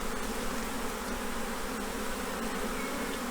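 Honeybees from a swarm being transferred to a new hive buzz in a dense, steady drone, close and continuous throughout.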